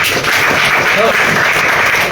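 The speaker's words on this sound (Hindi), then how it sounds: "सर के लिए भी जोरदार ताली होना चाहिए" Steady, dense applause from an audience for a teacher who helped build a family's house, loud and continuous throughout with no clear breaks, voices mixed into the crowd noise.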